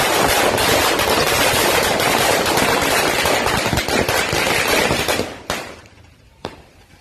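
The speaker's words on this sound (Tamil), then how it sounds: "தற்போது பட்டாசு வெடிச்சு கொண்டாடிக்கிட்டு இருக்கேன்" Firecrackers burst in a dense, rapid crackling barrage at a Tamil community celebration, loud and continuous for about five seconds before thinning out into a few last scattered pops and near silence.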